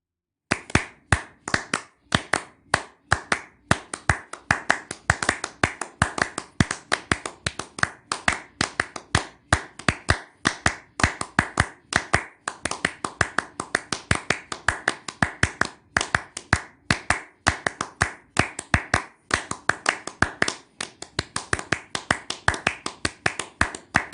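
Two performers clap a rhythmic, pitchless piece of interlocking patterns, sharp dense hand claps sounding continuously and close for the full stretch with no voices.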